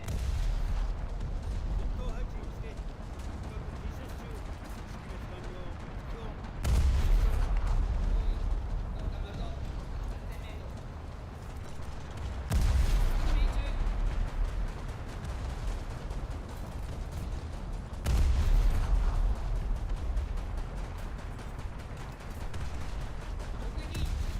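Tank cannons fire in War Thunder, with three heavy booming blasts spaced roughly six seconds apart over continuous low rumbling battle noise and scattered gunfire.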